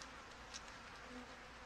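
Steady buzzing of honey bees in a hive crowded with brood, a dense, even insect drone heard close and fairly faint, with no speech over it.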